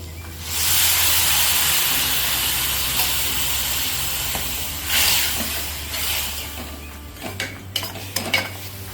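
Water poured into hot masala in a pan, a sudden loud hissing burst of steam that slowly fades into bubbling sizzle, followed by a few light stirring clatters.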